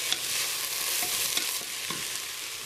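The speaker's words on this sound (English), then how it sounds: "So this is the frying part." Vegetables for a stew fry and get stirred in a pan, giving a steady, loud close-up sizzle with a few soft scrapes of stirring throughout.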